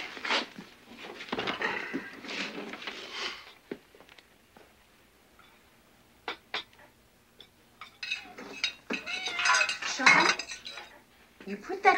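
Dishes and cutlery clink and clatter in scattered bursts, with quiet gaps between handling sounds, close by in a domestic kitchen scene.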